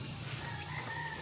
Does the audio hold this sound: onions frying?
no